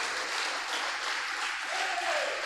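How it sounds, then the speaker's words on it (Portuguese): A congregation at a Brazilian evangelical church service claps in praise of Jesus, a soft, even roar of many hands heard from a distance with no one speaking. "Dá uma salva de palmas para Jesus"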